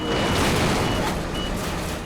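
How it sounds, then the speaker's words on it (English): Heavy truck noise during a recovery lifting a tractor trailer out of a river, with a dense, rumbling mix of engine and machinery, a reversing alarm beeping steadily through it, loud and close. "I'm hearing the alarms."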